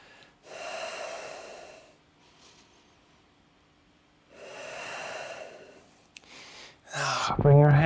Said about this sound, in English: 2 more breaths.